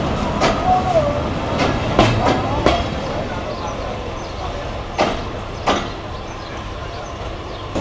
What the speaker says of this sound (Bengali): বনলতা এক্সপ্রেস ঢাকা কমলাপুর থেকে রাজশাহীর উদ্দেশ্যে রওনা দিয়েছে